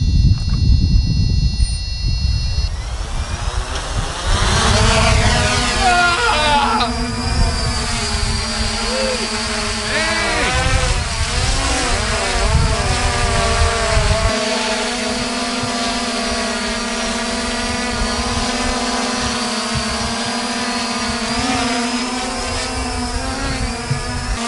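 Drone propellers spin up after arming, a steady loud whirring hum with rising pitch sweeps that holds throughout, some vibration and rattling noise underneath.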